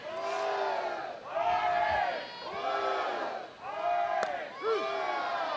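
A rowdy crowd at a Florida State vs Florida college softball game roars and chants in rising, rhythmic waves, a mass of voices swelling and falling for several seconds.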